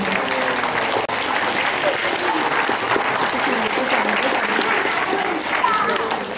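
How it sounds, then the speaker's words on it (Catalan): Sustained crowd-style applause stands in for little animals clapping their fins in a children's story, dense and even throughout with one sharp click near the start. "I tots els altres animalets van a començar a aplaudir amb les seves aletes"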